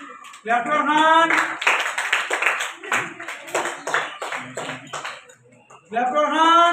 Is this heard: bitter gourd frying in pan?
no